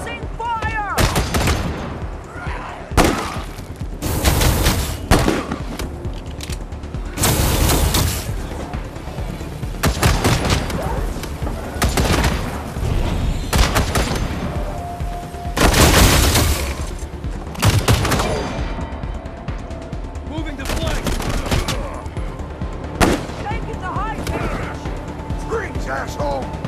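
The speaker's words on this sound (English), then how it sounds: "Suppressing fire!" Bursts of gunfire from the video game Wasteland 3, with volleys and automatic fire erupting repeatedly amid heavy impacts, loud and close, separated by short lulls, with occasional voices in between.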